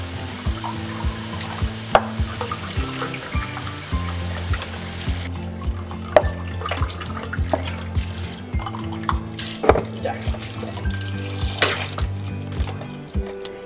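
Beef broth pours into a pot in a steady liquid trickle with splashing, heard close up with soft kitchen clatter and no talk.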